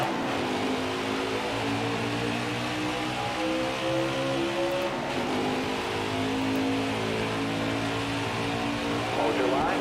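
NASCAR stock car engines at Kentucky in a racing video game, a steady loud drone of several cars at high revs with shifting pitch, under a race commentator's talk.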